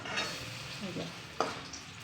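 Flattened mini pakoras pressed down in a hot pan give off a steady oily sizzle, with a few light clinks of a spatula against the pan while they are turned.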